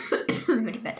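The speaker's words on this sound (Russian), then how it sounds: "Кашель просто еще до сих пор" A woman with a lingering cough lets out a short run of three or four close, harsh coughs in about a second, with no speech around them.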